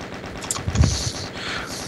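Gunfire in a Doom multiplayer capture-the-flag match: a quick burst of shots peaking near the middle, fairly close and moderately loud over steady game noise, with no talk.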